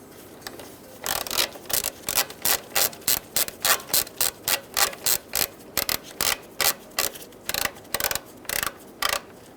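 A ratchet wrench with a 10mm socket tightens the radiator fan bolts on a 2010-2013 Kia Soul 2.0L: steady runs of close, crisp clicking bursts repeat in an even rhythm, loud and close, with no talking.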